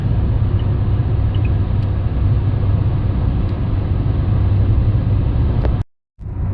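A Renault 1.5 dCi diesel car engine pulls under load in fourth gear, a steady, close, low droning rumble that holds evenly before cutting out briefly near the end.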